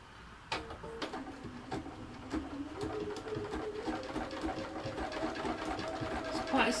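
A sewing machine stitches a small blanket stitch around the edge of an animal cushion, a quiet steady rapid ticking whir with sharp clicks and a slight build toward the end.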